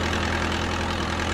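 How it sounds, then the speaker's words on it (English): A forklift engine in a virtual-reality certification training simulator runs at a steady low idle, an even rumbling drone with no starting surge, heard alone. "Turn on the engine"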